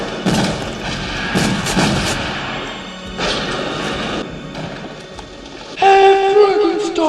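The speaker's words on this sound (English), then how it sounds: "only to be shot to hell by Meeker and the mob" Gunfire from a mob shooting in a Halloween 4 horror movie scene, a burst of loud, repeated cracks and crashes over a dense, noisy soundtrack, ending in a brighter clattering section.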